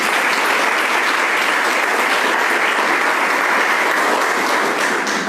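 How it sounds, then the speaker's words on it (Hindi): Loud, sustained applause from a large church congregation during a sermon, dense and steady clapping that continues throughout without pause. "जोरदार तालियां खुदा के जलाल के लिए।"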